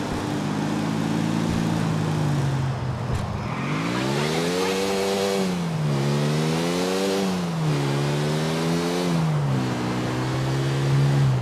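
Car driven hard and fast in Grand Theft Auto IV, its engine revving loud and close with rising and falling pitch sweeps as it accelerates and shifts, continuous throughout with some tire noise.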